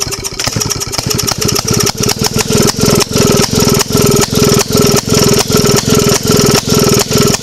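A 1928 Maytag 92 single-cylinder engine is kicked over, catches and runs with a loud, close, rapid popping beat that settles into a steady chugging rhythm.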